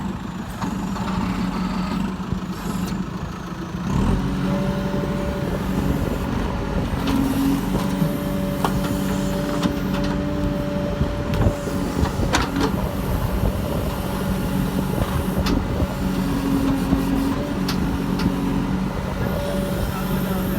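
A 2007 JCB backhoe loader working on a building foundation and landscaping site, a steady loud diesel engine drone with tonal whine, hydraulic hiss and occasional clanks and rattles throughout.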